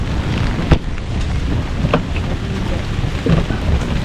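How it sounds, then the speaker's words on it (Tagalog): Heavy rain pours down at Mayon as a dense, steady roar, loud and close, with a few sharper splashes and knocks breaking through the constant hiss. "Lakas ng ulan."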